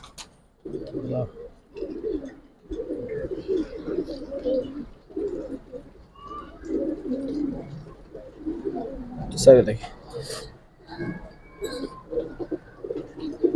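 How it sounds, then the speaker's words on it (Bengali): Young pigeons of Giribaz silver and coloured breeds coo softly in repeated low bursts throughout, with someone talking over them nearly the whole time and a brief sharp knock near the middle. "প্রত্যেকটা একদম ইয়াং কবুতর"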